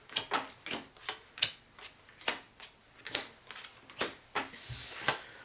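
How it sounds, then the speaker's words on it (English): A deck of zombies game cards is shuffled and dealt by hand, giving a series of crisp, close riffling snaps at a steady irregular rhythm, about a dozen sharp bursts with no talking. "take the zombies cards, shuffle them up,"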